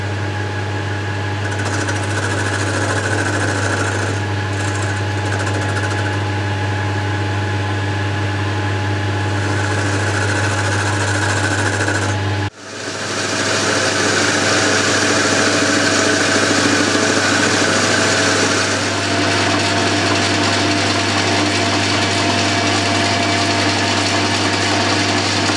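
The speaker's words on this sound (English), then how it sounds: "The first thing I need to do is face off the end of the bar." A metal lathe faces off the end of a bar stock in a model engineering workshop, giving a steady mechanical hum and whir throughout, with a brief dip near the middle before the cutting drone resumes.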